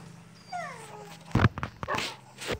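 A dog gives a few thin, high whimpers followed by short sharp yips, close and fairly quiet, with a brief pause between the whining and the yipping.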